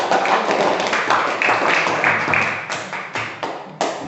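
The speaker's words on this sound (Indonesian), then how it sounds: "silakan berikan aplaus untuk kelompok 1" A classroom group applauds after a group presentation, with scattered light claps and taps that thin into a few separate claps toward the end, close by.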